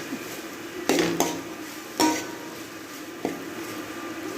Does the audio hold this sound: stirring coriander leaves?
yes